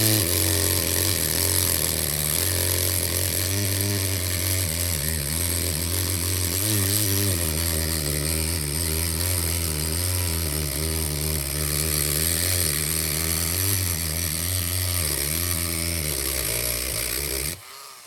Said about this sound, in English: I'll just take my Dremel with a cutting bit or cutting